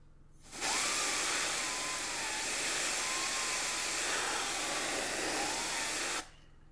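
Brand-new can of compressed air spraying in one continuous, steady hiss that starts abruptly and stops abruptly about six seconds later, nearby and alone with no talking.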